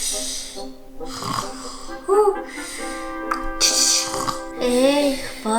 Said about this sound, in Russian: Он храпит.